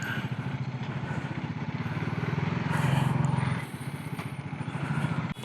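KTM Adventure 250 motorcycle on a test ride, a single-cylinder engine thrumming steadily at moderate volume with a brief rise in revs midway, wind rushing over it.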